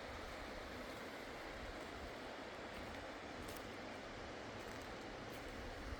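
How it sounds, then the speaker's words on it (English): Camp Creek running high after rainstorms where it flows into the Klamath River near the former Iron Gate site, a faint, steady broadband rush of water with no voices. "Camp Creek's flowing pretty good today, which is to be expected with all the rainstorms that we've had."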